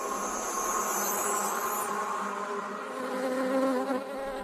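Wild bees buzz in a close, steady drone that swells and fades slightly as they move, with no voices over it.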